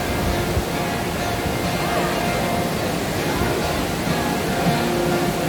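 A large indoor waterfall in a resort hotel atrium, with balconies overlooking the falls, gives a constant loud rushing wash of water, with a murmur of voices mixed into the noise.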